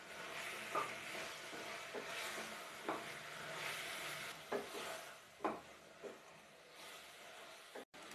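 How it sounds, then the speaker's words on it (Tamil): Chopped ripe tomatoes sautéing in a pan, with a steady close sizzle and frying hiss broken by a handful of spatula scrapes and stirs. "ஒரு 5 நிமிஷம் நல்லா எல்லாத்தையும் வதக்கிக்கலாம்"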